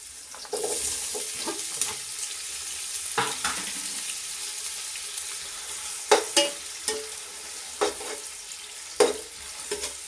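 Onions frying in hot oil for a homemade chicken biryani, a steady close sizzle broken by a few sharp stirring clinks and scrapes, with no talking.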